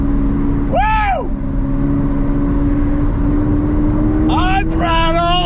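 A 2022 Toyota GR 86 sports car is driven on throttle: a steady, loud engine drone holds throughout, while a voice whoops and exclaims over it at the start and near the end.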